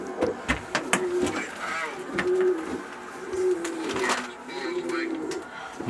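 Racing pigeons coo in a loft with repeated soft, throaty calls rising and falling over several seconds, close to the microphone, mixed with faint rustling and small clicks.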